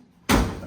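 A 1962 Triumph TR4 car door shuts once with a single solid, close thud that rings briefly and fades, following a moment of near silence.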